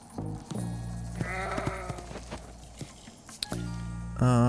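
A goat in the video game GUNCHO gives wavering, nasal bleats, one in the middle and a louder one at the end, among clopping hooves, drips and other game effects.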